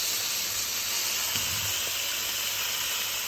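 Beef and cheese yakitori skewers sizzle on the heat, giving a steady, close, broadband hiss that continues throughout with a faint low clunk partway through.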